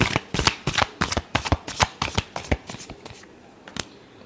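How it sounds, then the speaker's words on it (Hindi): Tarot cards are riffled and shuffled in a quick run of crisp, close flicks that come in rhythmic bursts and slow to a last few snaps, with no voice. "last shuffle"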